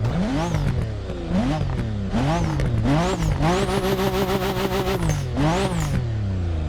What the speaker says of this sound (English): The turbo flutter is insane.